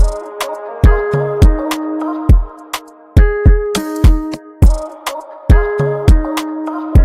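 A bouncy afro swing beat with thumping kicks and crisp percussion loops over sustained tonal vocal samples, loud and rhythmic with no talking.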